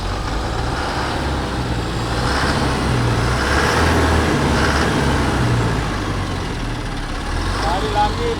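A second-hand truck's engine revs in a steady, loud roar that rises and falls slightly and continues without a break.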